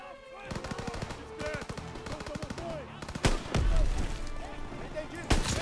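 Gunfire from the World War II shooter Call of Duty WWII, with rapid bursts of automatic shots and a couple of louder heavy blasts near the end, mixed with game music and voices talking throughout.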